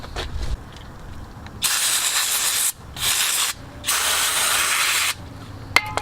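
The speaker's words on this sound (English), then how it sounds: "So I'm gonna clean it with some brake clean." Brake cleaner sprayed onto the brakes of an IS300 during a brake and rotor job: three close, loud hissing bursts of aerosol, each lasting about a second, with short pauses between and no talking.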